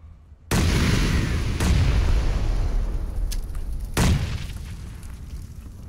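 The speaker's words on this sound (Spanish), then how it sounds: "Me han tirado granada" A grenade blast in PUBG bursts loudly after a brief silence, followed by two more sharp booms that ring out and decay into a fading rumble.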